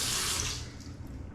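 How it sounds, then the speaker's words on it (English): Tap water running from a faucet as a face is wetted before shaving, a close steady hiss that fades out within a second or so. "Now I'm gonna get my face wet and put on the Skin Food."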